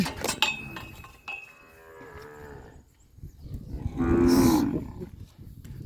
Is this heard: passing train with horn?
no